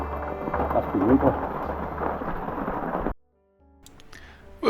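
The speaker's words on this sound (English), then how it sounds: "it is bucketing down out here." Heavy rain pours down outdoors in a garden in winter, a dense steady roar that cuts off abruptly after about three seconds, leaving only faint scattered sounds.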